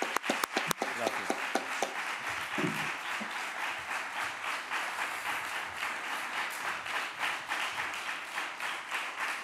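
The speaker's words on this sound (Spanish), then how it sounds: "pido un fuerte aplauso para las cinco personas del equipo" Sustained audience applause at a 2020 film press conference for "El olvido que seremos", opening with a few sharp separate claps before settling into steady, dense clapping that continues throughout at moderate level.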